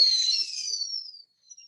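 A fizzing, whistling firework streak that hisses and fades over about a second, followed by faint crackles.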